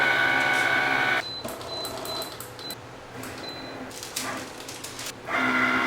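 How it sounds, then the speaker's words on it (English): Cricut cutting machine working through glitter cardstock in Cardstock Plus and Fast Cut mode, a loud motor whir with the carriage stopping, shifting and restarting, plus short electronic beeps, no talking. "now let's insert our print then cut into our Cricut."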